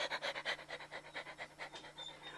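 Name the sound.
person imitating a dog panting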